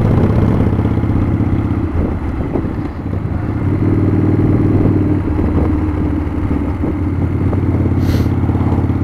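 A carbureted 1997 Harley-Davidson Springer Softail engine running on a test ride: a loud, continuous low rumble with a steady throbbing pulse, close up and alone throughout.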